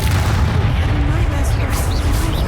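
A Confringo explosion spell in the Hogwarts Legacy video game bursts with a loud, continuous booming rumble, with game noise layered over it.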